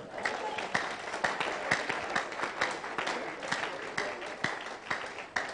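A church congregation gives a clap offering to the Lord, a full, lively round of clapping with sharp individual claps standing out over the crowd, with voices mixed in.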